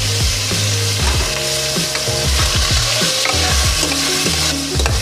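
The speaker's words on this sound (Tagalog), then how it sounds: "At simulan na natin igisa yung mga sangkap ng pansit natin." Pork sautéing in hot oil in a pot for pancit bihon guisado, loud steady sizzling with repeated scraping stirs of a spoon against the pot.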